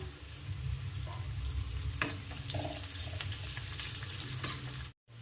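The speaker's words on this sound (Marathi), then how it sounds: "परतून घ्यायचं कांद्याला आणि कढीपत्ता थोडा" Onion and curry leaves sauté in a hot pan with a steady, dense sizzle, a few soft stirring clicks on top, then a brief dropout near the end.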